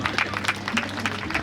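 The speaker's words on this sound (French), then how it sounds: "Acclamons pour la parole du Seigneur." Congregation applauding at a funeral service, a brief burst of many hands clapping in a fast, dense patter, close and fairly loud.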